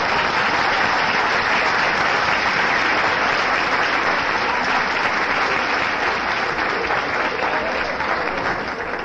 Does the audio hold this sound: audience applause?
yes